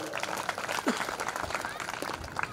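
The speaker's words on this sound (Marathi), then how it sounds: "टाळ्या वाजवा" Applause from an audience at a Marathi religious sermon during a Brahmotsav celebration: moderate, continuous clapping spread across the hall, mixed with speech throughout.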